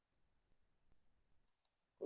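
A single sharp mouse click on an OK button in software, close and crisp, coming at the very end after near silence.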